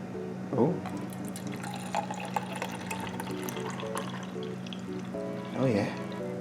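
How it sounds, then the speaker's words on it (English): Milk is poured from a can into tomato soup, giving a soft, close liquid trickle with a couple of brief louder splashes, while a person talks over it. "Then with the can, you're gonna pour a nice little canful's worth of milk in there."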